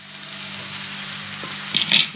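Boiled sushni greens dropped into a pan of frying spices and vegetables, a soft steady sizzle that rises into a couple of sharp bursts of crackling as the greens hit the oil.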